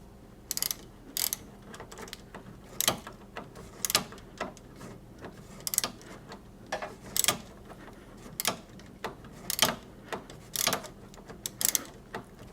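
Ratchet wrench with socket tightening a bolt on a GM CVC6 AC compressor, giving a close, crisp series of clicking bursts in an irregular rhythm over a quiet background.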